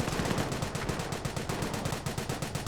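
Machine guns rattle in the WWII strategy game Company of Heroes as a continuous, rapid stream of dense bursts, steady and fairly close, with no talking over it.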